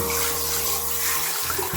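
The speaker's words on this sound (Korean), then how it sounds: "여러분들 욕실에서 수도를 쓰실 때 이렇게 물을 틀면 물이 나오죠" Water runs from a bathroom tap in a steady close rush, with a low hum beneath it that cuts out briefly near the end.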